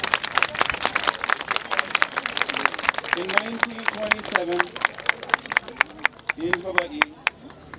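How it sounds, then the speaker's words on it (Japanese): Scattered clapping from a small crowd at a Hawaiian May Day festival, individual claps distinct and uneven, with voices and cheering mixed in underneath. "どうぞ大きな拍手を迎えてください"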